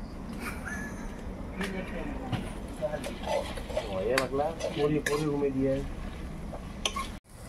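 Meat tipped into a kadai and stirred, with metal clatter and scraping of a spoon against the pan, continuous and close, with a voice talking over the cooking noise.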